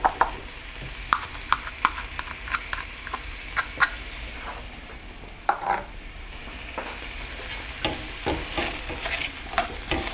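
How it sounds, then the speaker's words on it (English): Onions and garlic sautéing in a pan, with a steady soft sizzle under repeated scraping clicks from stirring with a utensil throughout, fairly close and moderately quiet with no voices. "And I'm going to sauté the onions in that same pan"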